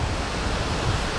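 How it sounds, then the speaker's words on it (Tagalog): Water rushing near Difuncian Falls in Quezon, Nueva Vizcaya, a steady broadband wash with no break, close and fairly loud, with wind buffeting the microphone. "I hear water."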